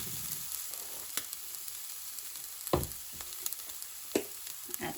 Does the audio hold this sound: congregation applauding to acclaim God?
no